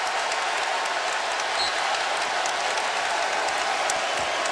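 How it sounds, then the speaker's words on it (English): A basketball crowd in Chapel Hill at a North Carolina home game against Duke, giving a Bronx cheer after a call goes against Duke: a dense, loud, sustained roar of many voices filling the arena. "A Bronx cheer here in Chapel Hill as the call goes against Duke"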